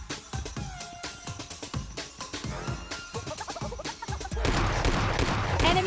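Rapid bursts of gunfire from the PUBG Mobile Lite battle royale game, a run of sharp repeated shots over a busy mix of game effects, with a denser, louder stretch of noise near the end.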